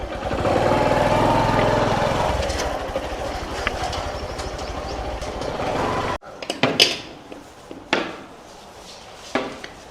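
A motorcycle engine runs steadily and loudly for about six seconds, then cuts off abruptly, leaving a few scattered clicks and knocks.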